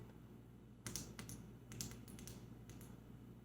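The switch of an i3T EOS flashlight is clicked, giving several quick, faint taps in small clusters over a low steady hum.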